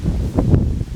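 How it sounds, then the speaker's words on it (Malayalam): Wind gusts over an outdoor vegetable garden on a rainy day, a brief, loud, rumbling buffet against the microphone with no talking. "കാറ്റ് പിടിക്കേ"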